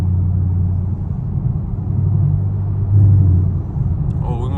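Straight-piped Chevrolet Camaro SS V8 in a tunnel at night, a deep, loud rumbling exhaust burble that swells briefly near the end, heard from inside the car.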